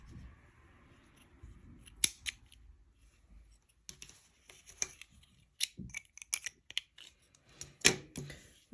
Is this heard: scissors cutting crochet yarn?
yes